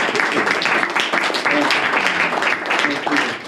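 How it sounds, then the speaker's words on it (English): An audience gives a round of applause for the speakers at a creative evangelism event: dense, steady clapping from a crowd, fairly loud and continuous, with voices talking over it. "let's give these guys a big round of applause"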